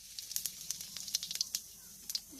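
Whole cumin seeds spit and sizzle in hot oil after an egg has been fried, giving faint, scattered crackling pops that come irregularly and quietly with no talking.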